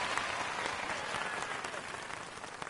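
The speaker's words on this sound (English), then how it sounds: "Everyone's cheering." Crowd cheering and applauding in the motorbike game Trials Fusion, a dense, steady roar of clapping and voices at a finish line that holds for the whole moment.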